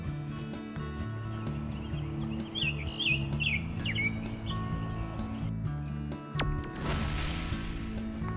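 Birds singing outdoors at Harford Glen, with brief chirping phrases over a steady low background hum and a few sharp knocks, nearby and fairly quiet.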